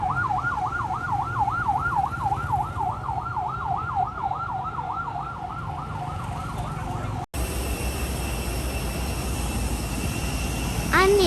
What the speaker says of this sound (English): When seconds count, I race to save lives. My siren is a sound of hope.